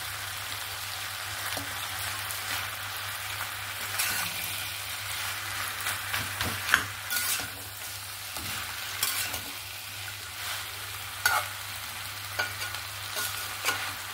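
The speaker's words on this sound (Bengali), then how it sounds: "মাছের মাথাটা দিয়ে ভালো করে মিক্স করে নিচ্ছি" Fried fish head being stirred into raw pumpkin in a hot pan, a constant sizzle broken by repeated scraping and clattering stirs of the spoon, close and fairly loud, with no talk.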